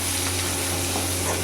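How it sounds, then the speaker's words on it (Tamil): Mustard seeds, curry leaves, garlic and onion sautéing in hot oil, a steady loud sizzle and crackle with faint stirring, heard alone with no talk. "கடுகு, கருவேப்பிலை, பூண்டு, வெங்காயம் நல்லா போட்டு வதக்கணும்"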